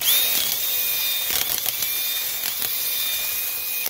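A power drill bores out a hole for the guide pin of a replacement trailer jack on a Yamaha ShoreLand'r boat trailer, giving a steady high-pitched metal-cutting whine with a few brief catches.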